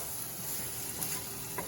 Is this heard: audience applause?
no